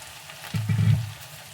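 Drumstick leaves drop into hot oil with a brief, low-pitched crackling fry lasting under a second before settling back to quiet.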